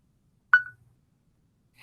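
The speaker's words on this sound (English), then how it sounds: "once it does that beep, it basically means that it has stopped." A single short electronic beep from a browser dictation tool stopping sounds in near silence, followed by quiet, with another faint tone starting at the end.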